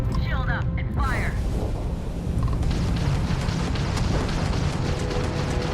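Spaceship weapons fire and explosions sound in the Starfield video game. Quick sweeping laser zaps open the clip, followed by rumbling booming blasts, and a voice speaks over the combat.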